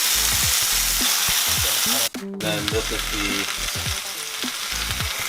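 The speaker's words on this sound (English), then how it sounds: "that noise, that sizzle noise" Food for Thai curry noodles fries in a pan with a loud, continuous sizzle and a brief break partway through, while a person talks over it.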